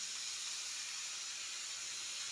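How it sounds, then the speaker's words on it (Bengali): Potatoes for alur dom are stirred with a spatula in a hot pan, giving a steady, close, even sizzling hiss with no pauses throughout. "এবার খুন্তি দিয়ে ভালো করে আলুটাকে নাড়াচাড়া করে দিচ্ছি।"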